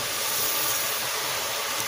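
Rice poured into very hot oil with cumin in a pan for pilaf over high heat, a loud, steady, close sizzling hiss without speech.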